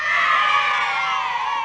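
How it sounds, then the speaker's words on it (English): A loud, sustained whooping cheer from one person, bright and close, lasting under two seconds and sounding almost like a small crowd. "I do a big cheer right now."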